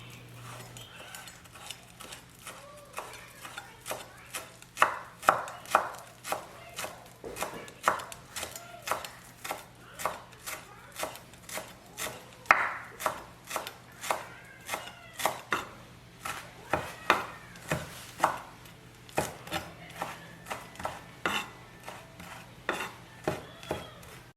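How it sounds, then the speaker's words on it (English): Knife blade chopping parsley on a cutting board, a long run of sharp, fairly close taps in uneven quick bursts, some faint utensil clinks behind, no talking. "Now I'm going to set that aside and chop up some parsley."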